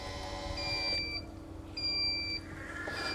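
Coverseal automatic pool cover sounding its warning signal while moving, a pair of faint, steady electronic beeps over a low motor hum, with no talk.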